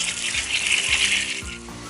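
Tank water running steadily from a tap to clean the filter of a Sanden water heater, a continuous close hiss and splash with small gurgles, no voices.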